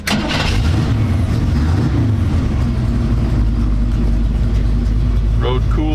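A 1934 Ford hot-rod pickup with a 409 V8 catches on the starter and settles into a loud, steady, rumbling idle close by, with someone talking briefly over it near the end.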